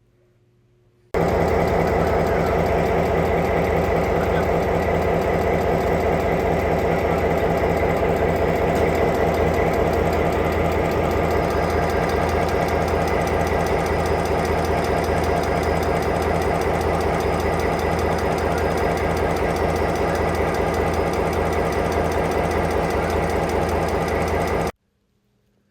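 A short-line railroad's diesel locomotive engine runs steadily and loudly up close, a deep rumbling drone with a rhythmic knocking pulse that holds unchanged for over twenty seconds.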